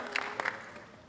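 Audience applause following a Bharatanatyam dance debut, a short burst of clapping from a seated crowd that swells briefly and fades within about a second.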